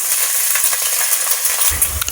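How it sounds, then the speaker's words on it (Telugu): Sliced ginger frying with tempering seeds and peanuts in groundnut oil and ghee for wheat rava upma, giving a steady close sizzle with light stirring scrapes and a clink, no voices. "తాలింపు గింజలు వేగిన తర్వాత అల్లం కూడా వేసుకోవాలి"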